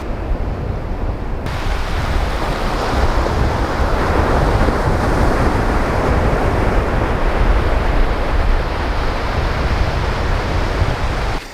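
Waves roll in on a flat sandy beach at Lunan Bay, Scotland, with the incoming tide, a loud, steady roar of surf mixed with gusting wind noise across the microphone.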